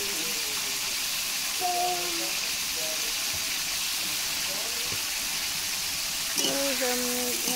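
Chicken meat frying in oil gives a constant hissing sizzle throughout, with a few faint tonal sounds and a voice surfacing briefly over it.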